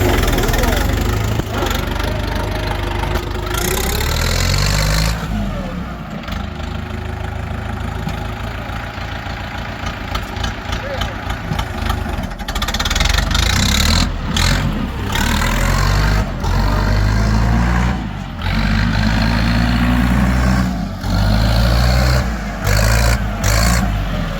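An old Kentavr tractor engine running at idle after a key start, a loud rough diesel rumble with uneven knocking pulses throughout, with a voice talking over it at times.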